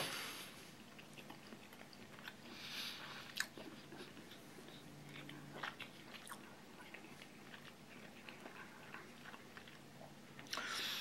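Close, quiet chewing of salmon fried rice with crunchy carrots, soft irregular crunches and bites over a faint background hum.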